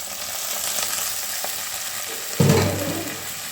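Fish oil poured into a pan of frying onions for a fish-oil chorchori bursts into a loud sizzle partway through, rising abruptly over a softer, steady frying hiss.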